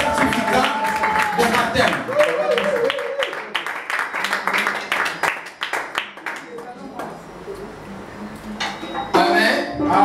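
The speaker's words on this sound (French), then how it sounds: "Applaudissons très fort pour la gloire de Dieu" Congregation clapping at a Sunday church service during a baptism certificate ceremony, a dense run of hand claps mixed with voices and cheering, thinning out partway through and then swelling again at the end.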